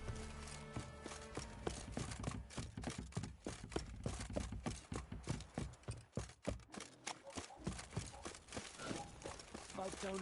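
Horse hooves clip-clop in steady rhythm through The Witcher 3 video game, with crunchy, irregular footfalls mixed into busy game ambience and faint voices.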